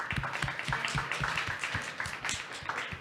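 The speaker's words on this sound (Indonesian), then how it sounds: "Tepuk tangan buat Mbak Irena" Audience applause at a talk show on growing a food and beverage business, a steady wash of clapping hands lasting a few seconds with no voices over it.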